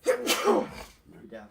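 A person sneezes once, loud and close, during a tabletop role-playing session, and a brief spoken word follows.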